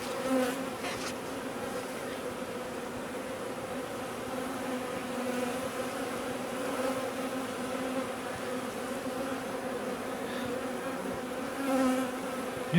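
Honeybees buzz at an opened hive during a varroa treatment visit, a steady, dense, close drone that holds evenly throughout with slight swells, no voices.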